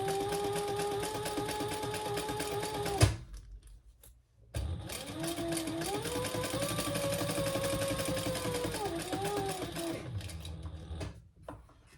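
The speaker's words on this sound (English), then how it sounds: "So come up a little bit on your corner so you don't skip a stitch." A sewing machine stitches a crossbody bag in a steady, close, rapid hum, stops for about a second and a half, then runs again for several seconds before halting with a few small clicks.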